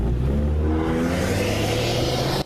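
A white sedan's engine revs hard and accelerates away as its young driver flees a police breath test at a roadside checkpoint, a loud, sustained rising roar with steady gear whine and no talk.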